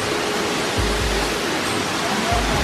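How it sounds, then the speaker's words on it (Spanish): A hidden waterfall pours out of a rock grotto along a trail in Jardín, Antioquia, Colombia, a steady, close, rushing roar of falling water filling the whole moment. "Esta es la cascada escondida."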